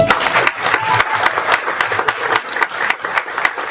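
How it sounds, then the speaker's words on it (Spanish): A church congregation applauding at a resurrection service, dense clapping from many hands with sharper individual claps standing out, steady and fairly loud throughout. "¿Cuántos le rinden otro aplauso al Señor?"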